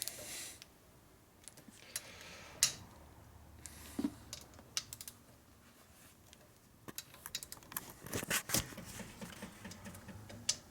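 A wrench tightens motor bolts on a 1992 Harley FXR Evolution 88ci engine during a rebuild, giving quiet, scattered metallic clicks and taps that grow denser and quicker toward the end.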